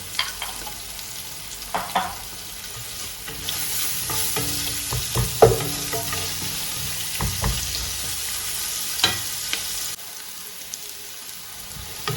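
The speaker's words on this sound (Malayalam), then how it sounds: "ഇപ്പോൾ ഉള്ളി നന്നായിട്ടൊന്ന് വഴണ്ട് വന്നിട്ടുണ്ട് കേട്ടോ" Onions sizzle and fry in a pot for a chicken curry while a spoon scrapes and stirs in irregular strokes, the sizzling fading near the end.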